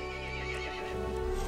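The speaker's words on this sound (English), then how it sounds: "The horse grew angry and summoned the other monsters." Horse in the video game Resident Evil 8 letting out a drawn-out neigh, close and clear over faint hoofbeats.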